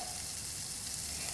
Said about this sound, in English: gently place the fish in the oil